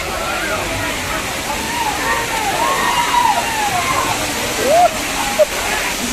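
An artificial waterfall pours in a steady, loud, broad rush of falling water that fills the whole stretch, with voices faintly audible beneath the roar.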